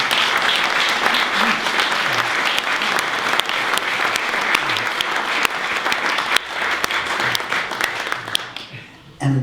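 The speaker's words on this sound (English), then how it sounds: "Can we all clap that?" A seated audience at a presentation claps warmly and steadily, a full, continuous patter with occasional sharper claps and faint voices murmuring beneath, fading toward the end.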